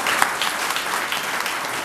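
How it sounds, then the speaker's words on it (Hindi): Loud, steady applause fills a church gathering, a dense crowd clapping close and continuously for about two seconds with no talking over it. "जोरदार तालियां से।"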